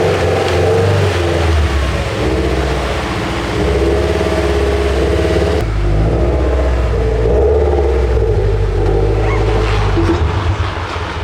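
A rebuilt, badly misaligned Japanese sports car drives down the road, its engine and tire rumble loud and continuous from inside the cabin.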